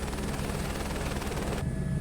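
Helicopter on a scenic flight over the Lahaul and Spiti loop, running low on fuel: a steady, loud rotor and engine drone with a rapid low thumping pulse that holds constant throughout, with no voices.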